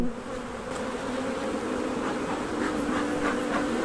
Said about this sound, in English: Gosh, just so many bees, and I'm only in the top box